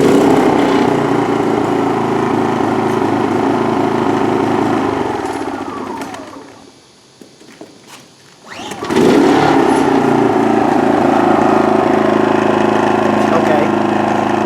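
A Pulsar PGD40iSCO generator engine runs loud and close, then drops away briefly to near quiet before starting and roaring back to a steady drone.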